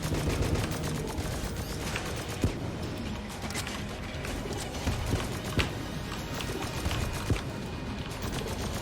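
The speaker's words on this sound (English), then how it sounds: "let me use a strafe gun" Strafe gun in the video game Enter the Gungeon fires in a dense, continuous rattle of rapid shots with sharper pops scattered throughout, steady and close with no talking.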